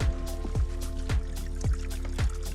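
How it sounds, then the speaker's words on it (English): A small mountain stream trickles with a steady run of close, distinct water drips in an even rhythm, over a faint constant flow and no voices. "We've got a little stream here."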